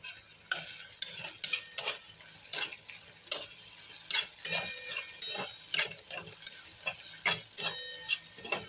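Vegetables with turmeric are sautéed in a pan, a faint sizzle under frequent crisp scraping strokes of a spatula, repeated in an irregular stirring rhythm, close and fairly quiet.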